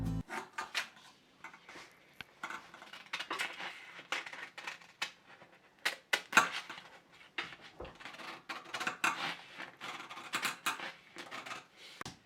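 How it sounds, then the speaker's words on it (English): Scissors cutting out a paper bodice pattern, with close, irregular crisp snips and rustling paper in uneven bursts, fairly quiet with short pauses between cuts. "what I'm going to do is just to cut it out"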